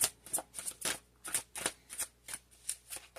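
Tarot cards are riffled in quick, evenly spaced bursts, close and crisp. About a dozen shuffles follow one another in a steady rhythm.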